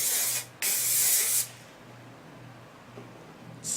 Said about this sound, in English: So next I would just take my hairspray,